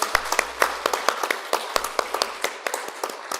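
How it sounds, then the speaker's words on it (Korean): Sparse applause from a small congregation at a Won Buddhist temple service in Gangnam, honoring members receiving awards: distinct individual claps in an uneven rhythm, fairly close, with no talking over them. "큰 박수 부탁드리겠습니다"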